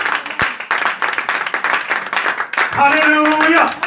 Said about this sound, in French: Acclamons Dieu pour cette parole